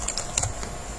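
Quick keystrokes on a computer keyboard while filling spreadsheet cells, a few light clicks in about a second, close and moderately soft.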